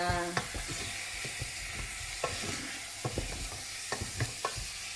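Chicken pieces for adobo sizzle and fry steadily in a pan, with scattered clicks and scrapes from stirring.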